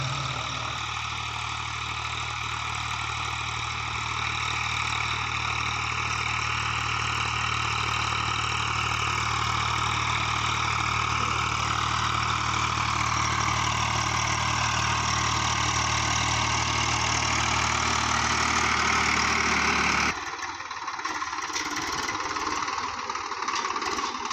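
A Swaraj 735 FE tractor engine drones steadily and loudly under load while pulling a ridger to cut sugarcane furrows, for a long stretch, then the tone shifts abruptly near the end.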